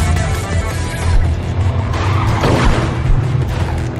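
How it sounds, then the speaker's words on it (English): Trucks rumble and skid in the video game ClusterTruck, a dense, continuous engine roar with tire scraping and a louder swell midway, carried along at a steady, fairly loud level. "how are we really supposed to keep on dodging all these trucks"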